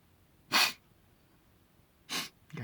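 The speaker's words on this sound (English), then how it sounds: "I got a sneeze coming on" Two sharp sneezes, fairly close and loud, separated by a pause of over a second, with a faint breathy sound trailing at the end.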